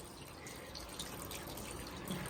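Water runs steadily from a tap while someone washes a face, a continuous close splashing hiss with no break.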